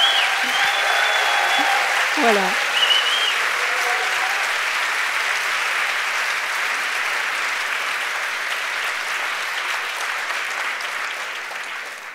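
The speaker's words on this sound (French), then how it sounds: "si vous pouviez faire un applaudissement à tous les bénévoles" A conference audience applauds volunteers with sustained, even clapping that holds steady for over ten seconds, while a speaker talks briefly over the start.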